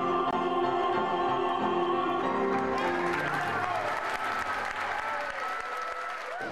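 An audience in a metro station applauds after a short opera performance. Warm, dense clapping from a crowd rises over the fading music and fills the echoing underground space.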